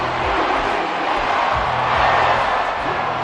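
Home crowd cheering in the Madden 24 football video game, a loud, dense stadium roar sustained throughout with faint whoops rising above it, and a commentator's voice faintly underneath.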